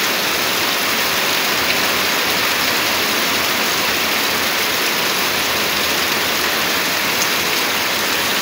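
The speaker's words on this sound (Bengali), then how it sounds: "টিনের ঘরের জন্য বৃষ্টি টিনের ঘরে অনেক ভালো লাগে" Heavy rain drumming on a tin roof at night, a loud, dense, unbroken hiss and patter filling the whole stretch, close overhead with no voices.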